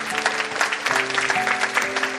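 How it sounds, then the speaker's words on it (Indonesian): Applause from a church congregation during a sermon, a steady wash of clapping that carries through the short stretch. "Tepuk tangan."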